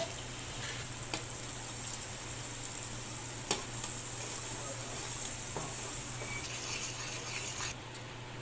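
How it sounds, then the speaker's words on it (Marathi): Masala sautés in hot oil for a goat head green curry, a continuous soft sizzle and hiss with occasional scrapes and taps of a spoon in the pan. "यामध्ये तयार मसाला खरपूस असा सुगंध येईपर्यंत आणि तेल सुटेपर्यंत परतवून घ्यायचं आहे"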